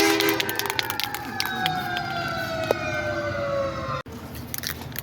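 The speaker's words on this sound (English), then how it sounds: "There is a fire truck passing by." A fire truck siren wails steadily as it passes nearby, its pitch sliding downward before cutting off abruptly.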